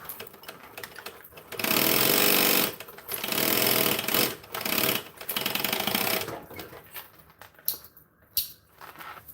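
Sewing machine stitching a bag, heard as several loud close bursts of rapid mechanical whirring separated by short pauses and fading into lighter clicks and handling noise at the end.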